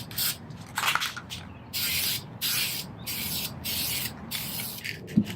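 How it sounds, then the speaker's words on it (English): Repeated bursts of warmed aerosol spray paint hissing in light coats onto a Hyundai Genesis Coupe fog light bezel, several short and longer sprays with brief pauses between, close and steady. "heat up the cans for 10 minutes, dry it off, and then start spraying"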